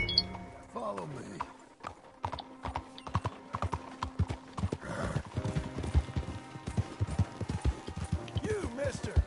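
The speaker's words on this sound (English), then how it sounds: "Este é o cavalo dele, parece estar doente." Horse hooves clip-clop steadily on the ground in the Red Dead Redemption 2 video game, close and rhythmic, with occasional whinnies and speech from game characters over the top.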